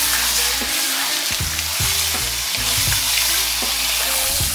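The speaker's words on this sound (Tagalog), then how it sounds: "Igisa lang natin to kasama ang mga spices ng ilang minuto or hanggang mag light brown ang kulay nitong pata." Pork pata frying with spices in a pan sizzles loudly and steadily, with repeated stirring scrapes and clanks throughout.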